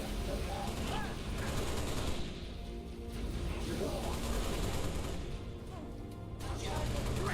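Rapid plasma rifle fire in Halo: Reach, a dense, continuous stream of crackling shots close up across the whole stretch, mixed with game mechanisms and clatter.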